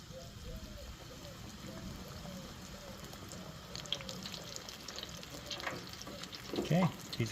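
Stuffed Spanish rice balls filled with beef and green chili deep frying in oil at 350 degrees, a steady broadband sizzle and bubbling throughout, with a few louder crackles and clatters near the end.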